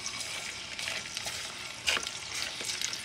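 Pork skin chicharrones frying in hot oil, a steady soft sizzle with bubbling crackle and one brief louder pop, close and alone without talk.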